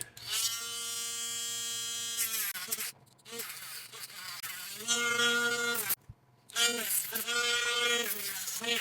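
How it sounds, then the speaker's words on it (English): A Dremel rotary tool grinds down an RC upgrade part for an FCX24 K5 Blazer. It gives a loud, high-pitched whine in three bursts separated by short pauses, with the pitch shifting as it bites into the material. "We'll Dremel it down so that we can fit underneath here and not have the too much gap in our interior."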